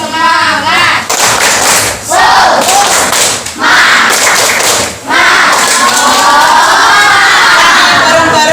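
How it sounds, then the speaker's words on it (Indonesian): Schoolchildren in a classroom perform the tepuk semangat clapping chant, loud and close, with rhythmic bursts of claps and thumps alternating with shouted group chanting over about eight seconds. "Masih ingat tepuk semangat?"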